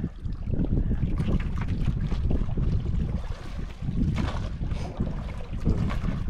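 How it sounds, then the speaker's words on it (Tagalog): A fishing boat rumbles over the water returning to shore, with heavy wind buffeting the microphone, a continuous low churning noise throughout. "Nag-uwi na ang isang bangka."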